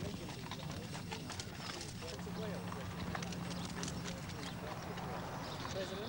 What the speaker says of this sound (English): She turned her horse away.